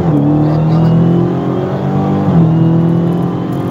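A drag race car launching at a dragstrip with its tires spinning: a loud, steady engine roar with sustained revving that dips in pitch midway and then climbs again, close and continuous with no talk.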